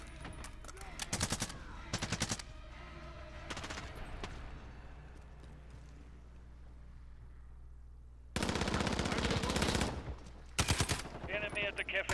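Automatic and rifle gunfire in a Call of Duty: Modern Warfare team deathmatch, coming in sharp bursts separated by quieter stretches, with a long sustained volley near the end.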